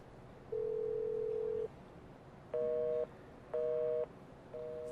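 Telephone busy signal after a call is rejected: a long tone, then a series of short, evenly spaced beeps repeating against a low hiss.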